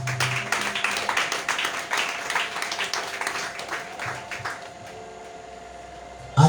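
Church congregation at a teaching service claps steadily, a dense and fairly loud wash of applause that holds for several seconds, then drops to a quieter hum near the end.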